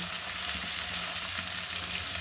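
Salt- and turmeric-marinated meat goes into a pan of fried onions, giving a steady, even frying hiss throughout with no talk over it.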